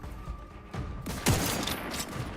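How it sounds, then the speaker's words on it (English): Gunfire in The Outer Worlds 2: several sharp shots at irregular intervals amid a busy, rumbling fight, one strong crack standing out near the middle, with no talking over it. "These guys are just dodging every single shot I'm going for right now."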